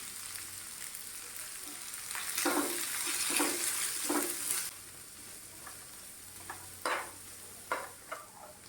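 Chopped onions fry in a pan over low heat, giving a soft sizzle with a louder burst of stirring and scraping in the middle, then quieter intermittent clinks of a spatula against the pan.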